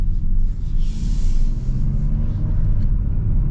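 A 2023 Honda Odyssey minivan's V6, paired with a 10-speed transmission, accelerates as a steady, loud low rumble heard from inside the cabin, with no voices.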